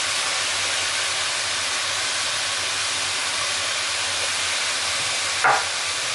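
Minced garlic sizzles in a hot pan for a beef stew with dark beer, a loud, even frying hiss that holds throughout, with one brief clatter near the end.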